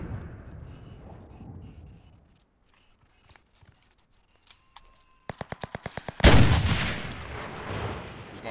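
Video game gunfire: after a quiet stretch, a rapid burst of sharp shots rings out, then a loud blast-like crash, close and loud.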